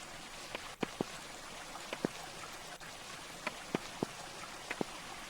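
Water blocks placed in the video game Minetest give a soft, steady flowing hiss, broken by scattered sharp clicks and taps at irregular intervals.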